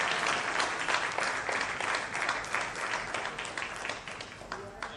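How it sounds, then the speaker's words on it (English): Loud, sustained applause from an audience at a property launch event, dense clapping filling the whole stretch with a steady crowd roar and no break. "We want a huge round of applause,"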